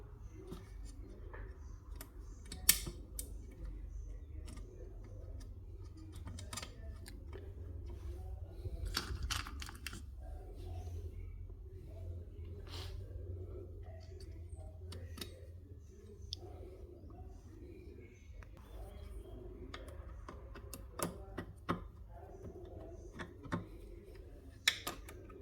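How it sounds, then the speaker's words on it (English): Small metal screws being fitted into the cover of a Kenwood A701A mixer: scattered light clicks and ticks of screwdriver and screws, quiet and close, with a low background hum. "So now I need to put the 4 screws that holds this cover"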